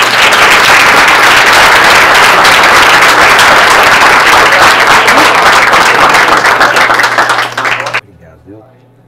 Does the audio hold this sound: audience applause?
yes